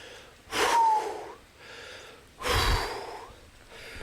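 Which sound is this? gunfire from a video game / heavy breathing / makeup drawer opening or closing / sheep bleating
heavy breathing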